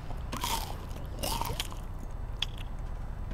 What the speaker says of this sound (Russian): Так что давайте возьмем еду. Такую еду. И немножко мяса и овощи. Хрум-хрум-хрум.